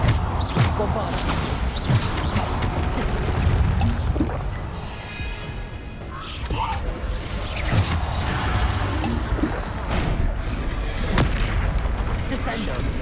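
Repeated Bombarda explosion spells in Hogwarts Legacy combat boom out over and over with sharp impacts and mechanical clatter, loud and continuous, as voices sound through the fighting.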